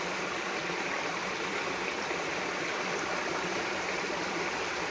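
Water in a natural stream rushes and flows continuously, a steady broadband wash of moderate level with no breaks and no voices.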